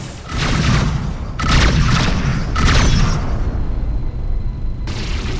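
Missile impacts hit a spaceship in a space combat video game, three heavy booming blasts about a second apart followed by a rumbling roar, loud and close with no talk.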